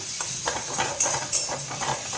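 Spice paste for a flat bean dish tipped into a hot kadai, a close crackling sizzle with a couple of sharp spattering bursts and light utensil scrapes.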